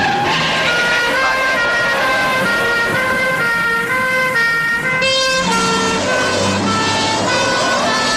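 A loud wailing siren sounds continuously, its pitch rising and falling, with engine and road noise underneath.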